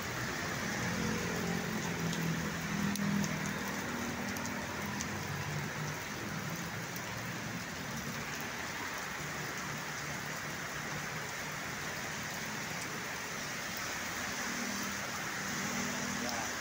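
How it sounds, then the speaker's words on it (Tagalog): Heavy rain in Pampanga, Philippines pours steadily throughout, a dense constant hiss of falling water, with a faint engine hum underneath. "nakita po niyo mga idol, malakas po ang ulan"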